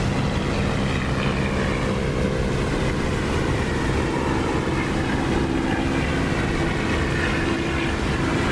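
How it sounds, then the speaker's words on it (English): Spitfire engine drone from the Echo 19 sound mod in the DCS flight simulator, a loud continuous propeller-engine roar holding steady throughout with a slight rise in pitch. "I'm running the Echo 19 Spitfire engine sound, and it is definitely better than the DCS sound."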